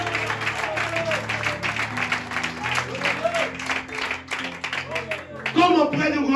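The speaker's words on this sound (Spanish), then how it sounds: "Denle fuertes las palmas al Señor." A church congregation claps loudly and steadily during a sermon on Nicodemus, with music sustaining underneath and voices mixing in throughout.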